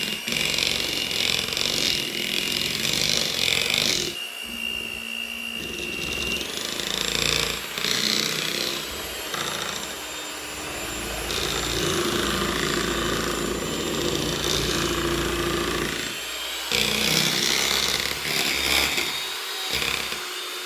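A stand mixer beats tiramisu cream in a bowl, its motor whirring steadily at close range with continuous grinding, rattling texture for about twenty seconds and a couple of brief dips in intensity.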